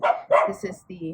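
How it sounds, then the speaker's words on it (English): Several dogs bark in sharp, close bursts, about three quick barks followed by a softer yip, with a person talking over them. "excuse the dogs."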